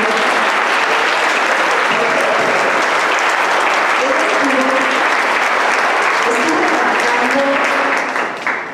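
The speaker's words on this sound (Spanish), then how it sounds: "Jessica, un aplauso para ella." Audience at a book presentation claps loudly and continuously for a guest, dense close applause with scattered voices and cheers under it, fading slightly at the end.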